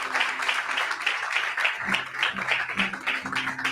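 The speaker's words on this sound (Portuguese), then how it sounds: "Mas dê um aplauso a Jesus, glória a Deus." A church congregation applauds for Jesus, with dense, sustained clapping from many hands filling the room and a low sustained tone underneath, no words spoken during it.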